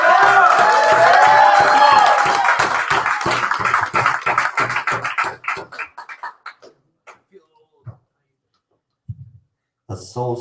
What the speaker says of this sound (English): let's give a bigger round of applause